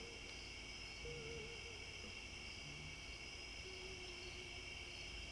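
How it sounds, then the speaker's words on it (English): Crickets chirp steadily at night in Pennsylvania, a faint continuous high-pitched trill with a few low hooting calls drifting in faintly in the distance. "Can you hear all those crickets?"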